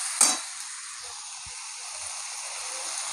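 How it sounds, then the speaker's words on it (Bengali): Potato, onion, tomato and peas sizzle steadily as they fry in a pan, a continuous close hiss that opens with a brief louder burst, as if stirred. "ভালো করে এগুলো ভেজে নেবো।"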